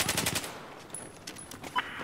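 Rapid bursts of video game gunfire, with a shotgun mentioned, crackle through the first half second, then scattered fainter shots and effects follow with no talking.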